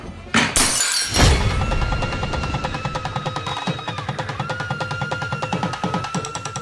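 Glasses hit a hard floor indoors in a loud crash of shattering glass, followed by a sustained ringing bed and rhythmic background music.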